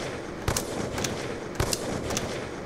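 DSR-50 sniper rifle shots in a video game: four sharp, evenly spaced cracks, roughly half a second apart, cutting through a steady wash of background noise.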